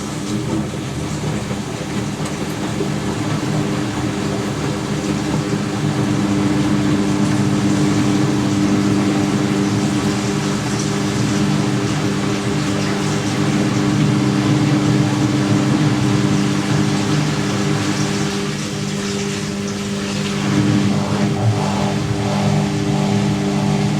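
An Indesit WN1196WG Ecosense washing machine on its final 1100 RPM spin, a loud steady droning whir with a strong tonal hum that holds throughout and swells slightly in the middle.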